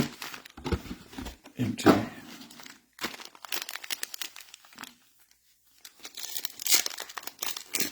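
Trading card packs, Optic Megas, being torn open and crinkled up close, with loud bursts of ripping and rustling foil broken by a brief quiet gap; one word is spoken.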